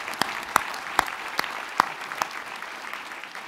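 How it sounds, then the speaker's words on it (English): A few sharp, separate claps ring out roughly every half second for a prize-winning student speaker at a graduation ceremony, then thin out into a quiet room tone. "I think another round of applause for her."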